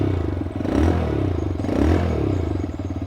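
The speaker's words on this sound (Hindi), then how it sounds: "अब आप इसके इंजन का साउंड सुनिएगा आइडियल कंडीशन पर।" A TVS Raider 125cc motorcycle engine runs just after a kick start, a close, steady mechanical clatter with gentle swells in pitch as it settles.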